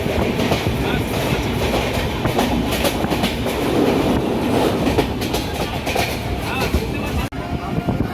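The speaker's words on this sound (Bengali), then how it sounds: "এই মুহূর্তে আমাদের ট্রেন ক্রস করছে আন্দুল।" The 22201 Duronto Express from Sealdah to Puri running on its tracks, heard from inside as a loud continuous rumble with rhythmic clickety-clack of the wheels, and talking faintly underneath.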